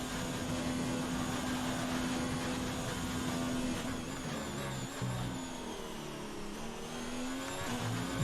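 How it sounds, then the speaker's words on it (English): An F1 car engine in the video game F1 2019 runs at a sustained high-pitched whine, holding steady before dipping and climbing again through gear and throttle changes, loud and continuous. "why does the engine sound so laid over?"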